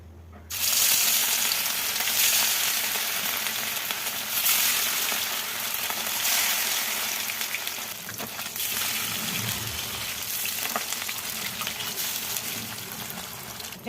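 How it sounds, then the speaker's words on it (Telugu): Fish coated in chilli powder and rice flour fries in hot oil with a loud, continuous crackling sizzle that holds steady for many seconds, close up and with no voices. "ఇప్పుడు నేను చేపల ఫ్రై చేస్తా, చూడండి."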